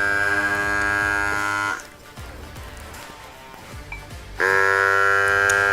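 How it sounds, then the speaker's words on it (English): A Grabo Pro electric vacuum suction lifter pump runs with a loud, steady buzzing drone, stops when it reaches a seal, then starts again with the same close, harmonic hum. "So instead of having to start and stop the Grabo Pro automatically stops when it reaches a complete seal."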